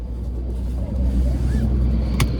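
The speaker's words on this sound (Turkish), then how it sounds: "Arkadaşlar şu anda aracımızın maksimum tork değerine ulaştık. Aracımızın maksimum torku 3600 devir." Renault Clio 5 with the 1.0 SCe petrol engine holding steady at about 3600 rpm, its maximum-torque point, giving a continuous loud low drone with road rumble, a faint whine and a brief click near the end.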